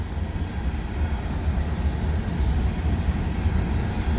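A freight train of gondola cars loaded with big pieces of stone rolls past close by at Canal Ridge, a steady heavy low rumble and rattle that holds evenly throughout.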